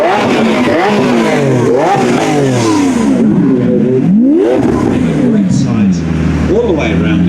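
Race cars circle an oval while warming up, engines revving and rising in pitch as they pass in repeated sweeps, loud and continuous, with a crowd murmur beneath.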